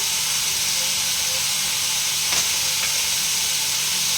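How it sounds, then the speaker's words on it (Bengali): Spice paste sizzling and hissing steadily in a pan while cooking a papaya and potato curry, a loud, even frying hiss with a couple of faint clinks. "এই দেখুন মশলাটা প্রায় কষা হয়ে গেছে।"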